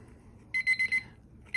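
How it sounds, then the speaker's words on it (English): A kitchen-style timer alarm goes off in quick rhythmic bursts of high beeps, four rapid pulses, a pause, then another burst starting, loud and close over a quiet room. "There goes my timer."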